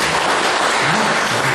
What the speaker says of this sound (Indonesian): Tepuk tangan pada semua.